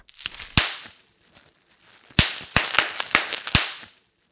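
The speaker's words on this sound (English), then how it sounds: "the popping noise when you squeeze bubble wrap" Sharp pops of squeezed bubble wrap, a couple early on and then a quick cluster of five or six close together, crisp and near with faint crackling between.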